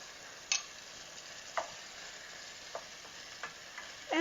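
Chicken and artichoke filling cooking in a pan for a puff pastry dish, a faint steady sizzle broken by a few sharp utensil scrapes and taps against the pan, heard close with no talking.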